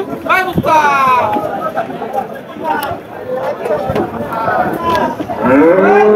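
A crossbred cow lows repeatedly at a busy cattle market, its drawn-out moos rising clearly over a steady background of crowd chatter and people talking nearby.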